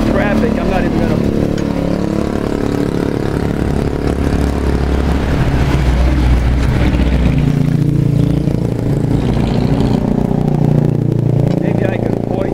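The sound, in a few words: street traffic in Bulacan, Philippines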